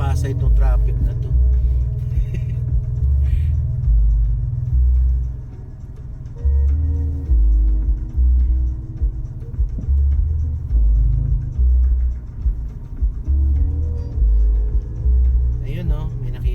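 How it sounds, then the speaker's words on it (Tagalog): Road traffic heard from inside a car crawling through a jam in Pasay: a steady low engine and road rumble with throbbing pulses runs throughout, with a voice talking over it. "Pasay itong traffic na to."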